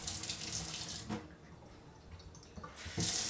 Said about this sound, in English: If I open the aperture all the way, the water runs very quickly, and this glass of water will fill very quickly